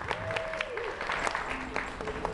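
Audience applause after a Thai duet performance of a love song, a moderate patter of clapping with faint whistle-like tones, fairly distant and steady over about two seconds.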